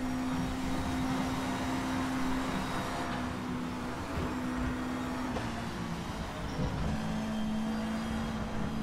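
Racing car in a sim racing game, a 1992 DTM touring car on the Nordschleife, its engine holding a steady drone with a faint whining transmission noise underneath, no talking.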